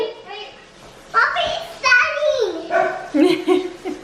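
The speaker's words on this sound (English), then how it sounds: "And the dog's barking, sorry." A dog barks indoors in short, close yips and whimpery calls, mixed in with someone talking.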